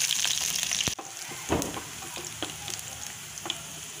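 Mustard seeds, ginger and garlic frying in hot oil for beetroot pickle, a loud continuous sizzle with popping crackles, a sudden drop near the start, then steady frying with scattered pops.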